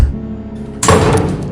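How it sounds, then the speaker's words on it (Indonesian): Doors and windows throughout a house rattle and bang with brutal force, a sudden loud crash breaking in after a quiet low hum and continuing as a dense, heavy clatter. "Pintu dan jendela di seluruh rumah mulai bergetar dan digedor-gedor dengan kekuatan brutal."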